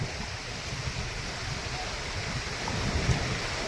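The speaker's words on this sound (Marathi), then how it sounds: "वेव्स बघा कशा येतात, वेव्स लाटा बघा कशा येतात" Ocean waves at Juhu Chowpatty beach in Mumbai, a steady broadband wash of surf rolling in continuously, fairly loud and close, with faint crowd murmur in the background.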